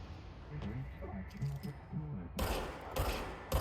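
Two loud, sharp gunfire bursts from the service weapon in the video game Control, landing close together near the end, following a stretch of quiet background sound with someone talking over it.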